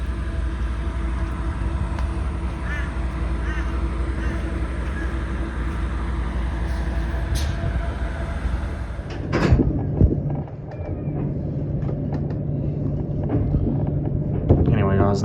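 Train departing a station on an outback line, a low steady rumble with a brief clunk and a change in the running noise partway through, and a voice faintly talking.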